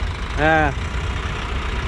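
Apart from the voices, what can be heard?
JAC 2.4 ton truck engine idling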